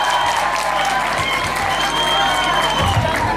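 Sustained, dense applause from a college fresher-party audience at Govt PG College Chamba, loud and steady throughout with a few cheers mixed in, as the crowd claps for a speaker who has just finished.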